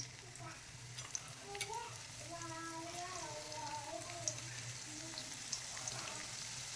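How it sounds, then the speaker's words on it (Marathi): Mustard seeds, cumin and garlic frying in hot oil in a pan, a continuous soft sizzle with faint crackles, while someone speaks over it. "तेल गरम करून घेऊया मोहरी जिरा लसूण"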